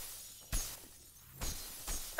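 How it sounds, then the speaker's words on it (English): Glass panes shatter in the shooter game F.E.A.R., three separate sharp crashes with bright scattering debris, spaced apart over quiet game ambience. "look at all this glass to break"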